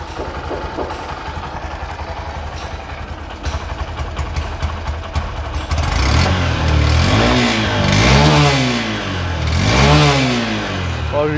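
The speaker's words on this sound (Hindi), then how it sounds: "स्टार्ट करके आपको एग्जॉस्ट नोट सुनाते हैं।" A 2022 Honda CB Shine 125 BS6 motorcycle idles with a quiet, smooth exhaust note, then is revved several times in rising and falling sweeps, loud and close.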